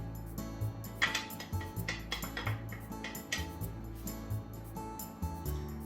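A pot of tofu kimchi soup with shiitake mushrooms being gently stirred, giving soft repeated clinks and scrapes of a utensil against the pot at close range, with no voices.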